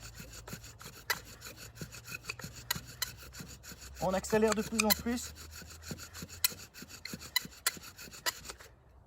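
A wooden bow drill spindle rubs against a wooden board to start a fire by friction, making rhythmic back-and-forth scraping strokes that speed up. The sound is close and fairly soft, and someone speaks briefly partway through.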